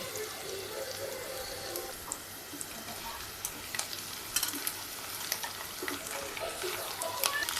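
Chopped onions sizzle steadily in hot oil for an okra-tomato curry, a dense broadband frying hiss with scattered crackles and pops, stirring noises rising now and then, no voices.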